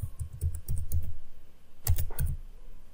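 Close keyboard typing taps out a search for a WordPress plugin in quick, uneven bursts of key clicks separated by a short pause, with no voices.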